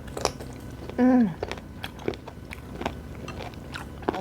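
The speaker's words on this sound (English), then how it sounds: "It's so crunchy and sweet." Close-up crunchy chewing of raw abalone sashimi dipped in spicy chili sauce, with a steady run of sharp, wet crunches and clicks spread across the clip and a short voiced hum of enjoyment partway through.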